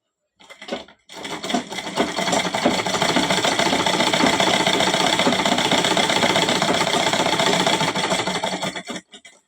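A sewing machine stitches a seam on cloth in one steady, rapid mechanical chatter lasting several seconds, starting with a couple of short bursts and stopping abruptly at the end.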